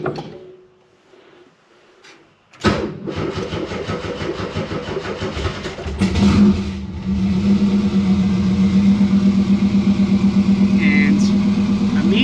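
A 1973 VW Super Beetle fitted with a Subaru engine cranks and fires after a quiet pause, settling into a steady, loud idle with a rising hum up close.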